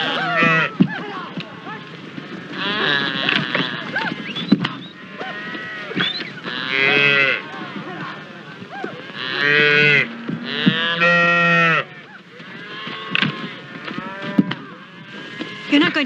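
Cattle on a ranch moo loudly and repeatedly, several drawn-out calls overlapping one another close by, with short pauses between the bursts and no talk over them.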